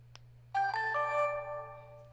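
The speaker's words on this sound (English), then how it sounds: "the turn on sound, like I guess the startup sound of the Osmo Action sucks" A DJI Osmo Action action camera plays its short electronic startup chime, a bright tonal ascending jingle of a few notes that rings out and fades within about a second and a half, heard close and alone.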